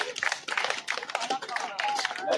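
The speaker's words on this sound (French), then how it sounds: "Applaudissez le Seigneur." Students at a school conference session at a lycée in Port Gentil applaud together; dense, fast clapping from many hands rolls on steadily, with voices and shouts mixed in throughout.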